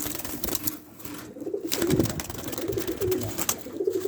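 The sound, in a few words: doves cooing while building a new nest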